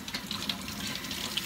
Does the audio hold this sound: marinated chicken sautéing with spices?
no